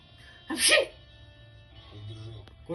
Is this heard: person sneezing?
yes